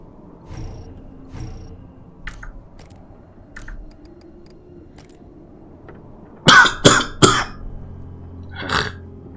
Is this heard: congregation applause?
no